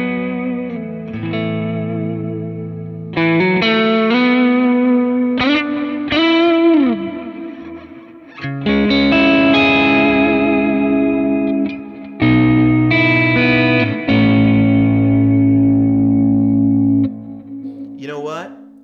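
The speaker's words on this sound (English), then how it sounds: "number 5 is going to be my ambient ethereal tone" Guitar through a Kemper profiler set to an ambient, ethereal tone with a heavy delay mix, playing sustained notes and swells that ring out in washes of repeats, loud and close.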